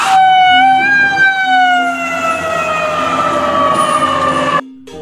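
A wailing ambulance siren sweeps slowly downward in pitch, loud and close, holding steady for several seconds before cutting off abruptly near the end.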